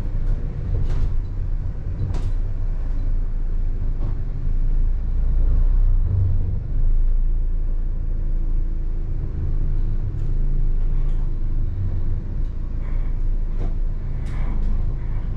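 Road noise fills the rear of a moving van on an isolated road, a steady low rumble with occasional knocks and rattles from the body throughout.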